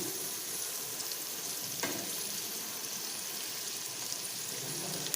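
Onions fried golden brown and fresh curry leaves sizzle steadily in hot oil, a dense continuous crackle with a brief sharper spit partway through, no voices.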